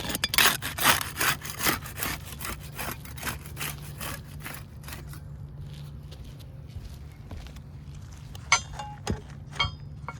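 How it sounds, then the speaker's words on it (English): A putty knife scrapes and pries at sealed roof shingles, making a rapid run of rough scraping strokes that gradually thin into scattered scuffs and a few sharper clicks, close and fairly loud, with a steady low hum underneath. "We'll use the putty knife to unseal the top shingles."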